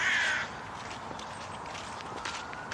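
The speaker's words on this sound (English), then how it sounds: "Oh, there's a crow following us." A crow caws once, loud and close, on an autumn morning in Bishopwearmouth Cemetery in Sunderland, then soft footsteps crunch along the path for the rest of the moment.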